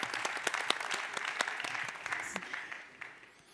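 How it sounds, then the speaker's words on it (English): Applause at an electric-vehicle conference awards session, a crowd clapping briskly with sharp individual claps standing out, holding steady and then tapering off toward the end. "last applause for them"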